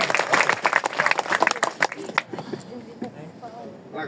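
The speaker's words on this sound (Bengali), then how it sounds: "জোরে একটা করতালি, জোরে জোরে জোরে জোরে জোরে" An audience at a product demonstration bursts into a loud, close round of clapping with sharp claps through the first half, then it thins out and fades into a background murmur.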